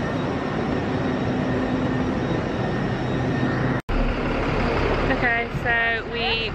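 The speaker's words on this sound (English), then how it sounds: "Got the tube, a very hot and sweaty tube, Piccadilly line all the way to Heathrow." A hot, crowded London Underground Piccadilly line tube train heading toward Heathrow gives a steady loud rumble and roar, broken by a brief dropout, followed by a chiming tone sequence near the end.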